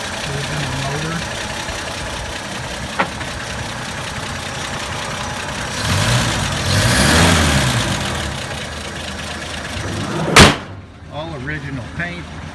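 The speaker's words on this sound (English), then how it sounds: "You can see there, overhead valve, inline 6-cylinder, original motor." Original overhead-valve inline six-cylinder car engine running at a steady idle, a continuous low rumble that swells briefly partway through, with a sharp knock near the end and someone talking over it.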